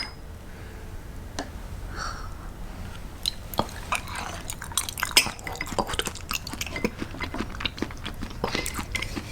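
Close, wet chewing and biting of raw liver eaten mukbang-style, with soft squelches and occasional clicks of utensils in a quiet room, steady and continuous throughout.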